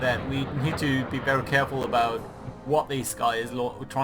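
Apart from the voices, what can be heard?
No everyday noises stand out.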